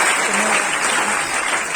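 A church congregation applauding for a worship leader and his sister, a dense, even roar of many hands clapping together, steady and close for the whole stretch.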